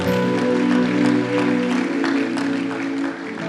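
Church congregation applauding and cheering in praise, a loud sustained wash of clapping and voices with music-like tones underneath, fading slightly near the end.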